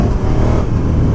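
A loud, close 2019 KTM 1290 Super Duke R motorcycle engine roar through the standard exhaust, a brief burst of dense low rumbling exhaust sound with no voices.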